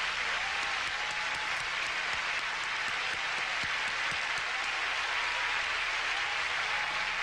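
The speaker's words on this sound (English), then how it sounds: "please join me in applauding all the contestants for the title of Miss Universe" An audience at the Miss Universe 1989 pageant applauds all the contestants, a steady, even wash of many hands clapping at once that stays constant from start to finish.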